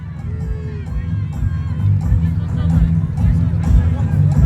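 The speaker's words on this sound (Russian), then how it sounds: "Друзья, громче поддерживайте спортсмена!" A crowd at a wrestling match roars and cheers for an athlete, a dense steady din of voices that swells louder toward the end.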